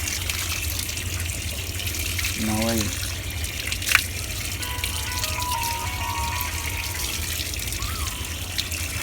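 Running water splashes steadily over a computer motherboard being rinsed for repair, a continuous hiss under a voice speaking nearby.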